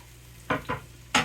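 Tomatoes dropped into a frying pan for a frittata with squash, giving three short bursts of sizzling and stirring, close and moderately loud over a quiet background.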